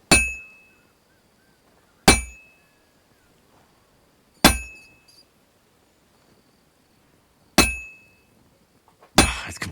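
Metallic bell in Kingdom Come: Deliverance 2, struck five times at uneven intervals, each loud clang ringing and fading into near silence before the next.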